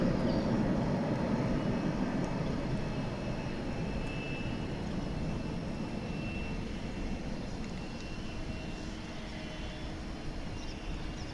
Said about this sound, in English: planes in action over here